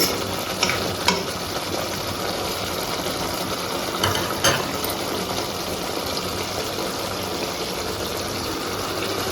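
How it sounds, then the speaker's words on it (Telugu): Chicken curry stirred in a pan, with a continuous dense sizzle and bubbling under a couple of scraping stirs and spoon knocks, close and steady throughout with no talking. "ఇలా మధ్య మధ్యలో తీసుకుంటూ కలుపుకోవాలి."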